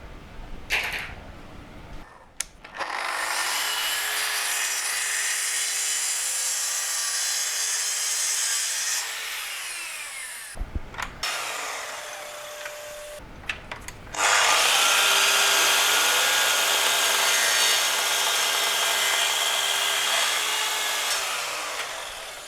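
A handsaw rasps back and forth through wooden table legs being trimmed to size, a long dense run of close, loud strokes with two brief pauses before the sawing resumes even harder.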